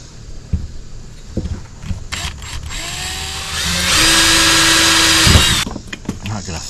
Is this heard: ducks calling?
no